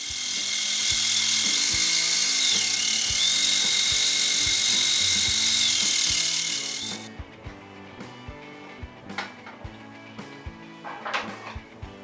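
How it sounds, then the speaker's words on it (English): A sewing machine stitching green screen fabric runs with a steady, close, rhythmic mechanical ticking over a high whine for several seconds, then the motor stops and only scattered clicks and handling sounds remain. "Now, let's sew this up."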